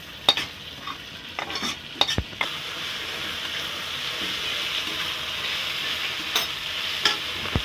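Rice frying in a pan with spice paste poured in, a steady close sizzle broken by a few sharp stirring clatters near the start and again toward the end.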